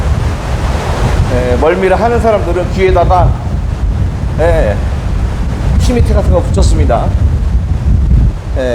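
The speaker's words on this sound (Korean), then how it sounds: "바람이 매우 거셉니다. 그리고 파도도 거셉니다." Strong wind and heavy waves at sea on a South Pacific cruise ship: a steady, loud rush of wind and surf rumbles throughout, with a person talking over it the whole time.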